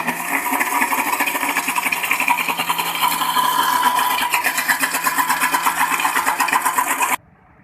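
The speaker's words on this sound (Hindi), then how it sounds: "उसके बाद मैं इसको ग्राइंडर में डाल दूँगी।" An electric kitchen grinder blending thick cake batter with added milk runs loudly and continuously with a pulsing whir for about seven seconds before abruptly stopping.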